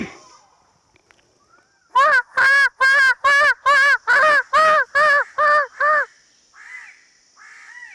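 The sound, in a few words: man imitating the call of a bird-of-paradise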